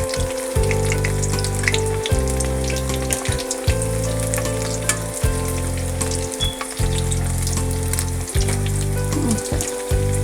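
Cauliflower 65 deep frying in oil in a kadai, a loud continuous sizzle with rhythmic low bubbling bursts recurring every second or so, close and alone with no voices.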